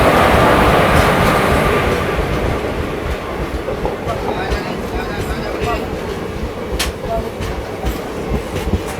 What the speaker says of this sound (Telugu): ఛత్రపతి సంభాజీనగర్ గుంటూరు ఎక్స్ప్రెస్ ప్లాట్ఫామ్ 1 మీదకి వచ్చిందండి.